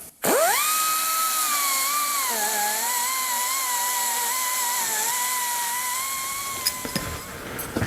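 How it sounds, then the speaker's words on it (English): A die grinder widens a hole to fit 2-inch pipe during a custom exhaust muffler build, giving a loud, steady high-pitched whine that holds for about seven seconds and then winds down. "So I'm just going to open it up a little bit with the die grinder."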